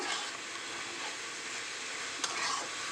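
Fenugreek greens sizzle softly in mustard oil with nigella seeds and green chillies while being stirred, giving a steady, quiet frying hiss with one brief scrape of the spatula near the end.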